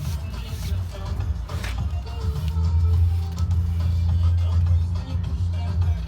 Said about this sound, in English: You can hear the V8 rumbling in the background.